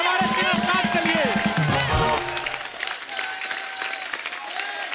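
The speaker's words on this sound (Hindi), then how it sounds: "जोरदार तालियां हमारे स्टार्ट के लिए।" Studio audience applause on a television comedy show, with crowd clapping and cheering under music and talk at first, then a lighter sustained wash of clapping continuing after the music drops away.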